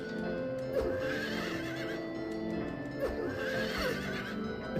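Carousel horse neighing in the game Silent Hill 3, with a couple of strained whinnies over a dense, droning background and faint clopping.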